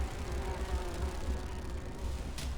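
Steady droning buzz of bees in the video game Grim Fandango, a dense continuous hum filling the scene at an even level without speech.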